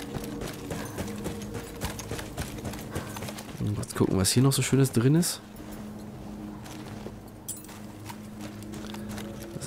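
A horse's hooves clip-clop in the Battlefield 1 video game, a quick burst of clopping at mid-distance amid background game ambience, while someone talks over it.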